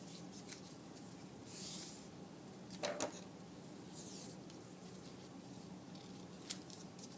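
Scissors trimming strips of paper at an angle along their open edges, a few quiet crisp snips and a short sliding rustle against faint room hiss, no one speaking.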